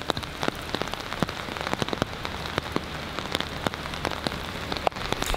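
Steady rain patters on a truck camper parked at a campsite, a dense, continuous hiss broken by frequent sharp drips and taps close by, with no voices.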